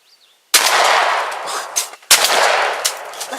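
Two sharp, loud gunshots from hunting guns, roughly a second and a half apart, each with a long echoing tail rolling off outdoors; no talk over the shots.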